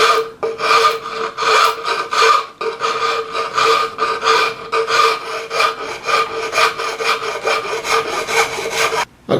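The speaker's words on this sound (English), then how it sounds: "I'm using this half round file" Half round file rasping steadily across an oak table leg, a fast run of back-and-forth strokes, close and loud throughout with a brief pause near the start.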